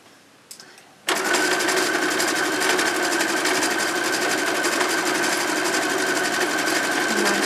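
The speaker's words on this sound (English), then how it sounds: "I'm obsessed with sewing on the line now." A sewing machine starts up after a second of quiet and then stitches steadily through printed pad fabric, a loud close continuous whirring hum with a fast rhythmic mechanical patter.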